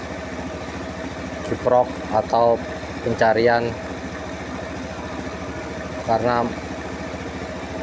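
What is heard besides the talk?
Honda Scoopy motorcycle engine idling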